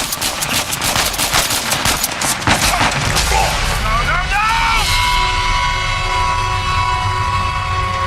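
Gunfire in an Uncharted game rattles in rapid bursts for the first few seconds, then gives way to a sustained tonal hum and swelling music, with shouted voices mixed in.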